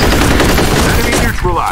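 Rapid automatic gunfire in F.E.A.R. combat, a loud dense fusillade of shots filling the whole moment with little pause.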